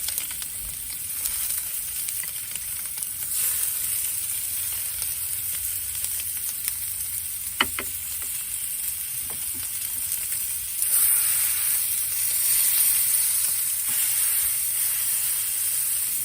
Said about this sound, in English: Now I'm going to put the tri-tip on the egg with a nice sear here.